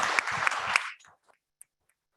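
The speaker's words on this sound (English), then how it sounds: "Let's give them a round of applause" Audience applause at a Chicago business panel event: a dense burst of clapping for about a second, then it stops abruptly into near silence with a few faint scattered sounds.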